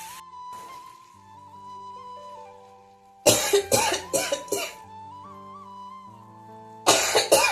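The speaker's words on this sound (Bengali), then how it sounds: "কি কাশি এসছে রে বাবা" A woman coughs in a home kitchen, two bursts of several harsh, loud coughs close up, one after a few seconds of a sustained musical background and the second starting near the end.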